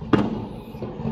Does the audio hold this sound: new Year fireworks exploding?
yes